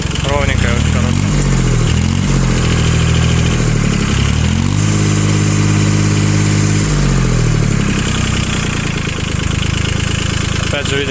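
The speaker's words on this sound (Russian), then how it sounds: "работа трактора, работа двигателя очень ровненькая, очень хорошая" A Japanese mini tractor's engine runs loud and close with 1004 hours on it. It idles evenly and then climbs and falls through several smooth revs, and someone talks over it.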